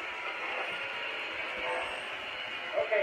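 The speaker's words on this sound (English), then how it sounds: "Let me run the trains a little bit." Model trains run around a large track layout, giving a steady, fairly faint rolling rumble that continues throughout, with a couple of slightly louder bumps near the end and a voice murmuring faintly in the background.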